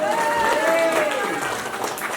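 Applause fills a 100th birthday celebration for an elderly Gurung man, a steady, moderately loud spread of clapping from a gathered crowd heard beneath an ongoing voice.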